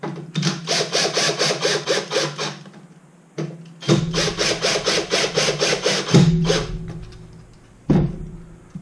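A power drill runs in fast, rhythmic pulsing bursts, close and loud, stopping briefly before starting again for several more seconds, while assembling an airsoft Carl Gustav launcher.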